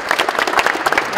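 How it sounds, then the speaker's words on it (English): A short burst of applause from a small crowd at a basketball run, quick scattered claps at close range. "We can clap for that, right?"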